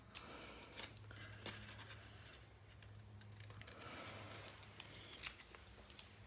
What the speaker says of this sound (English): I'm just doing this with my scissors freehand